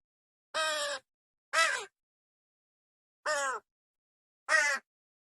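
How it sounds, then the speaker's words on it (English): Crows cawing, four separate harsh caws spaced apart against silence, close and clear, with no other sound. "The birds were squawking."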